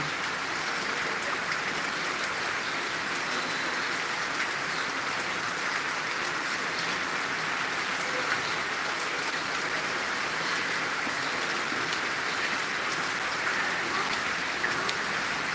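Heavy rainfall in Tangail makes an even, unbroken roar of drops hitting surfaces, with no voices, holding steady for the whole stretch.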